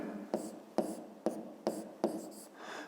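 Handwriting on paper for a maths exercise, five or six quick, evenly spaced pen strokes scratching softly up close in a quiet room.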